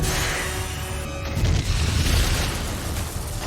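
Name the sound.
movie explosion caused by missile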